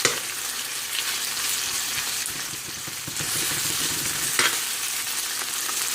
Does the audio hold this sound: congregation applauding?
no